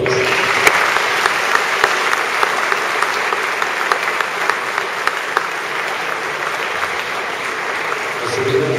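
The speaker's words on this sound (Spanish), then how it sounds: "pido un aplauso para ellos" Sustained applause from a large crowd at La Sargentada festival event in La Granja, Spain, dense and steady throughout with scattered sharper claps standing out.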